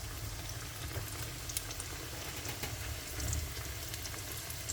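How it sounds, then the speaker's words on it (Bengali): Frozen burger meat fries quietly in a pan, producing a faint, steady bubbling sizzle with a few soft pops, heard close and without any talking. "দেখো আমি এই যে বার্গারের মাংস ভাজতেছি"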